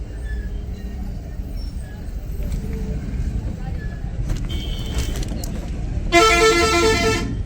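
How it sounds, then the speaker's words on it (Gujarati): On a busy town road near Morbi on a Sunday, engines hum and traffic rumbles steadily. Near the end, a loud, close car or bus horn honks. "રવિવાર છે ને, બહુ ટ્રાફિક છે."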